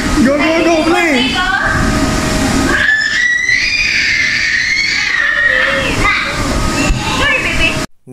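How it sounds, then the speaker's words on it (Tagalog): A child's high, drawn-out scream of excitement rises over a noisy, crowded scene, with voices shouting and chattering around it. "Narinig nyo ba yung sigaw na yon?"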